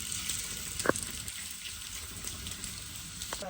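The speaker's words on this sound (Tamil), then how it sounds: "வெங்காயத்தை நல்லா பொன்னிறமாகும் வரையும் வதக்கணும்" Onions sautéing in oil with spluttering mustard seeds in a pan for lamb intestine curry: a soft, even sizzle close by, broken by a couple of sharp utensil taps.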